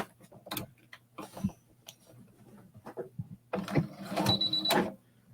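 Home sewing machine stitching a seam half an inch in, heard as short bursts of whirring mechanical running with ticking clicks and pauses between, growing louder and more sustained toward the end, no speech.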